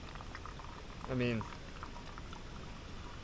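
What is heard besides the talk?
filtered water pouring into a 1 liter bottle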